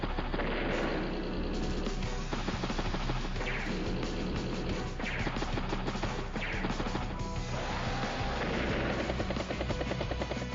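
Units attacking in the video game Advance Wars: Days of Ruin, with a battlecopter striking a tank and a tank hitting a mech: continuous loud rotor drone and heavy gunfire bursts with booming impacts, dense and unbroken, no talk.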